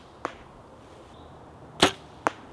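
An arrow released from a bow during archery practice, a sharp snap followed by a louder thwack, with short impacts against quiet, windy outdoor background noise.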